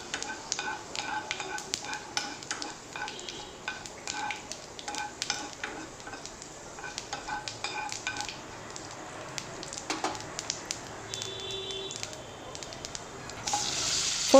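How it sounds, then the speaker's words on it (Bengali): Panch phoron five-spice seeds frying in a little oil for a Bengali chutney, a soft continuous sizzle broken by light scraping and stirring clicks, with a louder burst near the end. "ফোড়নটাকে 30 সেকেন্ডস মতো একটু ভাজা ভাজা করে নেব।"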